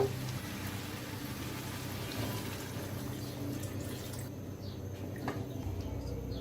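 Chicken gizzard and liver curry broth with chui jhal boils in a covered pot, a continuous bubbling, watery churn close up that thins out near the end, with a faint clink.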